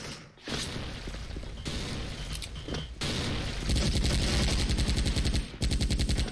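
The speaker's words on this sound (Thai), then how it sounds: "เขายิงกันขวามือผมครับ" Loud bursts of rapid automatic gunfire from an Uzi in the video game Special Force, with brief pauses and a long sustained stream toward the end.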